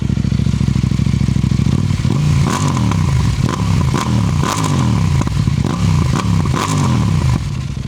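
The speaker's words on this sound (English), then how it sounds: "We're going to do a couple revs." A 2026 KTM 990 RC R motorcycle engine idles with a low, lumpy rumble, then is revved repeatedly, each blip of the throttle rising and falling, loud and close.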